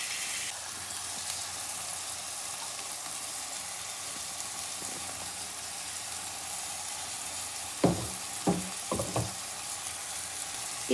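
Tomatoes frying in a pan for a beans masala curry, a steady bright sizzle throughout with a few stirring clatters near the end.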